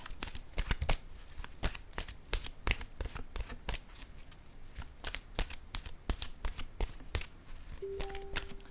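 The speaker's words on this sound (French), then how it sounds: "Je vais déposer maintenant une carte de mon oracle de l'âme intuitive." Oracle cards being shuffled and laid down, a rapid run of crisp riffling snaps and slaps in quick bursts, close and fairly quiet, ending with a brief faint tone.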